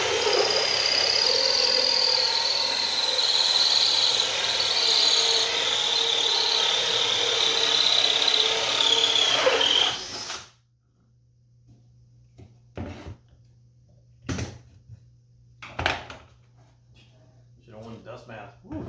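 A power saw screams steadily through cedar wood for a screech owl house for about ten seconds and then cuts off, leaving quiet room tone with a few scattered bumps and knocks.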